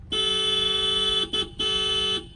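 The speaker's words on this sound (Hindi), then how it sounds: "लॉन्ग हॉर्न प्रेस करो," A car horn blares in a long, loud honk, breaks briefly with a short toot, then sounds again in another sustained blast.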